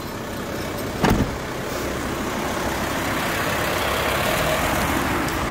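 A blue family van on the road, with a steady interior rumble of engine and road noise throughout and a brief bump-like thud early on.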